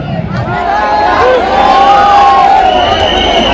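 Loud, continuous cheering and shouting from a large protest crowd at Jantar Mantar, a dense wash of many voices with a few raised calls standing out.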